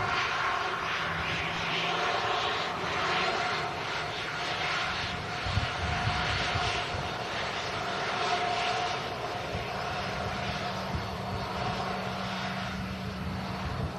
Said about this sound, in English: flying this Ryanair UK aircraft